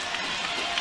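Arena crowd at an Indiana Hoosiers women's basketball game against Minnesota, a broad, steady roar of cheering that stays at an even level through the moment.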